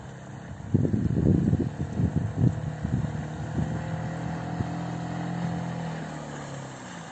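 A Storm outboard engine drives a small boat across the water, a steady droning hum with rough sputtering bursts early on, then settling into an even note.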